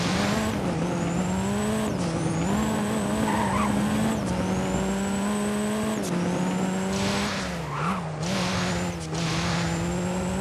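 KTM X-Bow GT4 Evo engine driving in the video game Driving Empire, a steady loud drone held through repeated upshifts roughly every two seconds, each gear change marked by a brief dip and rise in pitch, with occasional tire noise.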